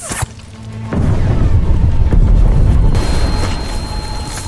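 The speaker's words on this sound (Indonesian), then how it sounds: "di mana saat tentara Rusia telah masuk ke dalam perangkap, bom pun diledakkan" Bomb detonating in a war film scene: a sudden loud blast followed by a heavy, sustained rumbling roar that slowly fades.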